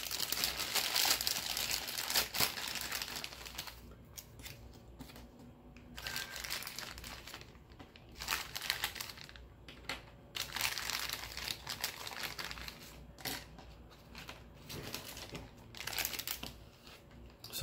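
A plastic bag of dash valve rebuild parts crinkles and rustles in bursts as it is handled up close, with no voices.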